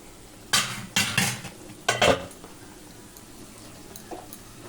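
Kochur loti (taro stolons) are turned over in a cooking pot, giving a few short scraping, stirring bursts with faint sizzling between them and no talk.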